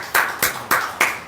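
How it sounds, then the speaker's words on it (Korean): A church congregation clapping in thanks during a Sunday worship service: four sharp, evenly spaced claps, close and fairly loud, with no talking. "앞에 감사의 박수 올려드리겠습니다."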